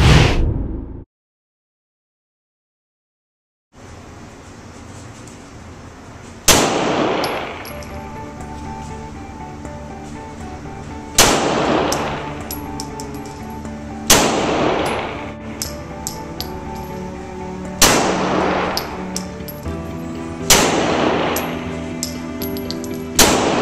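AR-15 rifle shots ring out at target practice outdoors: five loud, sharp reports spaced a few seconds apart, each with a lingering echo, after an opening shot and a short silent gap.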